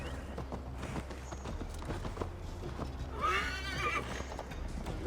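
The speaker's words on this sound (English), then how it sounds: "Mount up, Eivor. It's a long ride to Tamworth." A horse in the video game Assassin's Creed Valhalla, heard among busy game ambience with steady hoof clip-clop and a whinny rising briefly in the middle, fairly close and mixed with other effects.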